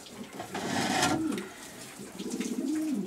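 Racing pigeons at a Romanian loft in Prahova county give two soft, rolling coos, one around the middle and another near the end, fairly close over a steady background hiss with no talking.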